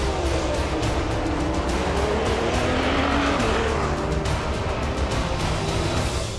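Audi and Peugeot race cars at the Le Mans 24-hour race, engines roaring loudly and continuously as they pass close by, with tire squeal and shifting pitch.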